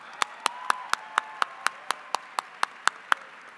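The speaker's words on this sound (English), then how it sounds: "I gotta give that a broad applause." Claps from an audience at a union event honoring a speaker, heard as a sparse, steady series of about fourteen distinct hand claps at an even rhythm, fairly faint against a quiet room.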